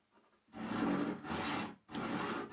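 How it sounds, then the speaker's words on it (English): A handsaw resaws a wooden board down its centre line in three rasping strokes, each a rough, close scraping push separated by brief pauses. "Using a handsaw, I use the centre line as a guide to saw the wood into two equal pieces."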